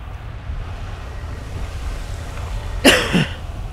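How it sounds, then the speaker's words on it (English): A single close cough straight into a microphone, a sharp harsh burst about half a second long, over faint steady background hiss. "Oh, sorry, didn't mean to cough into there."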